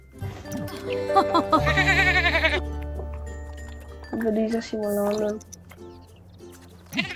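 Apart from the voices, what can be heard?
sheep bleating in a video game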